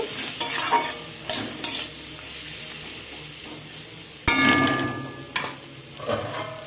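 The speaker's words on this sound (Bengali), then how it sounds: "দিয়ে সব কিছুকে নাড়াচাড়া করে নেব" Vegetables stirred with salt and turmeric in a frying pan, with repeated scraping strokes of a spoon against the pan over a steady background sizzle, close and fairly loud.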